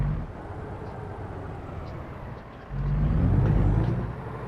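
A heavy truck in American Truck Simulator rumbles at idle, then its low engine drone swells as the truck pulls away after the handbrake is released, with a steady, loud rumble throughout.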